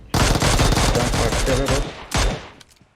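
Loud bursts of automatic gunfire in PUBG Mobile, a rapid rattling volley lasting about two seconds, then a short final burst that trails off, close and dominant with no talking.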